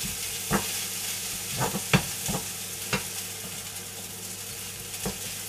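Food sizzles steadily in a frying pan, a soft continuous hiss broken by occasional scraping stirs and light knocks.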